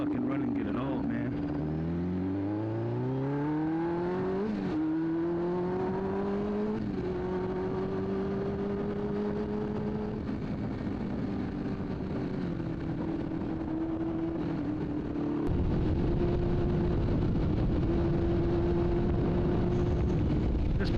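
A motorcycle engine running rough while being ridden, its uneven drone rising and falling in pitch as it revs, loud and close throughout with a brief shift near the end.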